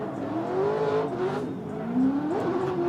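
Chevy Camaro drift car driven by Darren Parsons at an LS Fest West drift event, its engine holding high revs with rising and falling pitch plus tire hiss, loud and continuous.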